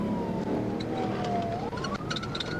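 An Audi A5 with a four-cylinder engine races in a police chase, its steady engine and road noise heard alongside a wavering siren tone that rises toward the end.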